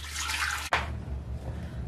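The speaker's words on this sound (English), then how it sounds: "We're going to start by adding our water to our large pan," Water pours into a large cooking pan, a continuous splashing rush that cuts off abruptly partway through and gives way to a softer trickle and drip, with no talking.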